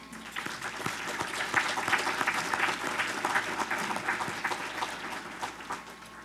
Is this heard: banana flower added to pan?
no